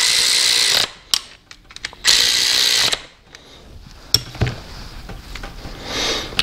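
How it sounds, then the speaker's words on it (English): New bolt and washer being tightened on a Classic Mini differential housing, heard as bursts of close, loud ratcheting and tool whirring broken by short metallic clicks and pauses. "get the new bolt and washer, tighten them up"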